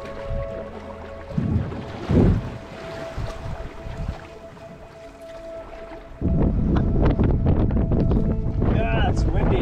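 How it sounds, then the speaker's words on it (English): Strong wind gusting across the microphone in a desert canyon on a canoe trip, loud buffeting that swells sharply in the second half, with people talking briefly amid it. "Yeah, it's windy."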